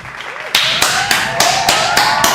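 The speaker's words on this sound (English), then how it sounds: "Everybody clap it up" A few hands clap in a loose, even rhythm of about seven sharp claps, close and loud, with a faint voice murmuring beneath the start.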